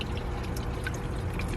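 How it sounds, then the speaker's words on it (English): Aquaponics bell siphon kicking in, water pouring and gurgling steadily as the grow bed drains, close and continuous without talk. "Oh, the siphon's going off."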